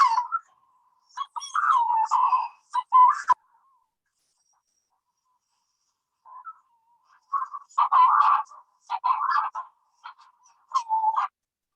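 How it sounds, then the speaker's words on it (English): Recorded call of a Manx shearwater, a burrow-nesting seabird on Scilly, played back from a phone: bursts of harsh, rhythmic cackling calls, a pause of near silence, then a longer series of repeated calls, clear and close. "that is the sound of a Manx shearwater"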